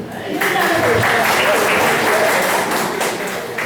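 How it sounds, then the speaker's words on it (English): Audience applause for a student at a motivational session for BCA college students: dense, steady clapping from a roomful of people, loud and sustained throughout. "I think we all should give a round of applause to Sushil."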